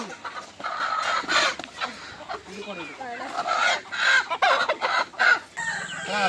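Country chickens cluck repeatedly in short, close bursts at a roadside dhaba, with faint background voices between the calls.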